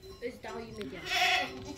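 At a sheepfold, a lamb bleats among sheep, with a louder bleat near the end rising over faint background voices and animal sounds.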